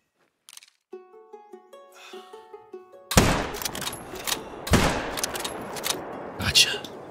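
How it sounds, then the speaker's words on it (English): A rifle shot fired at a barasingha deer in the hunting game Call of the Wild booms loudly after a few quiet musical notes, followed by a second blast and rumbling, crackling echoes and game sounds. "I'm going to shoot it!"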